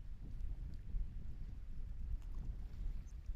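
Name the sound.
wind at Cape Canaveral launch site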